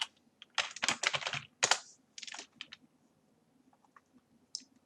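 Computer keyboard typing a search, several quick bursts of clicky keystrokes close up, then a few scattered taps in near silence.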